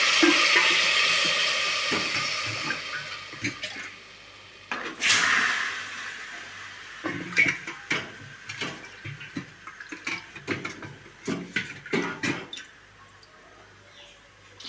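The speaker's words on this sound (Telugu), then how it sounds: "రెండు కప్పులు నీళ్ళు పోస్తున్నానండి" Water pours steadily into a pot of soaked rice for a few seconds, then fades into scattered clinks and knocks of kitchenware.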